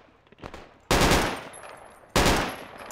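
Two loud, booming tank cannon blasts in the military shooter Project Reality, each hitting abruptly and trailing off in a long rumbling decay, about a second apart.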